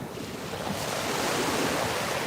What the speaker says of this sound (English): waves crashing on the shore